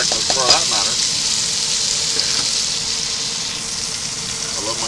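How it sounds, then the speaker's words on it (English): Vegetables such as onion sizzle and fry in bacon grease for a breakfast dish, a steady close hiss throughout, with a brief stir or clatter near the start. "Put these up in bacon. That's bacon grease right there."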